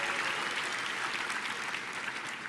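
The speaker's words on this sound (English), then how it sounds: "And applaud yourself, sure." Graduating class of 2018 applauding at an undergraduate commencement ceremony, a dense, even roar of many hands clapping at once, sustained without a break.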